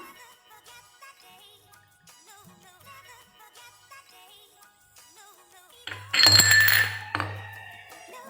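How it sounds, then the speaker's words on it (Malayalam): Soda pours into a glass of grape juice with lemon juice, a sudden loud fizzing rush with glassy clinks near the end, after a stretch of quiet kitchen handling. "ഇനി നമുക്ക് നമ്മുടെ മെയിൻ സാധനം സോഡ ഒഴിച്ച് കൊടുക്കാം"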